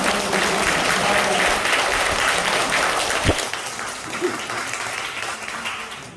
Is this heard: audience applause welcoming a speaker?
yes